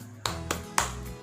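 A teacher leads a first-grade class in a spirit clap routine, with four sharp, evenly spaced claps about a quarter second apart over a faint low hum.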